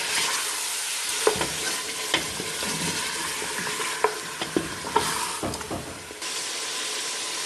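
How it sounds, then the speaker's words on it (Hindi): Mutton frying with ginger garlic paste sizzles and hisses steadily in a hot pan, close and loud, while a spoon scrapes and stirs in irregular clacks throughout. "अब इसमें हम जिंजर गार्लिक पेस्ट ऐड कर देंगे, और फिर इसको थोड़ा फ्राई करेंगे।"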